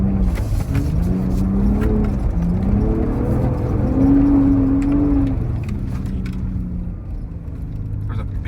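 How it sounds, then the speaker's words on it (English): Ford F-150 Raptor with an AWE catback exhaust, heard from inside the cabin in sport mode as it downshifts: a loud, continuous engine drone that rises and falls in pitch with each shift, with no one talking. "I'll give you guys a few downshifts on the inside of the cabin."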